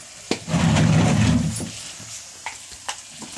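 Onions, tomatoes and turmeric frying in a pan for a chicken curry: a close, loud sizzling burst that fades within about a second, followed by a few sharp taps of a utensil against the pan.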